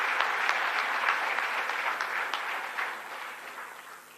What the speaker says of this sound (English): May we clap for press conference.